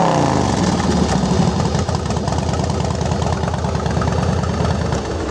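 Harley-Davidson Fat Boy FLSTF with a twin cam 88 engine idles close by, a steady loping thump with an even throbbing pulse and no talk.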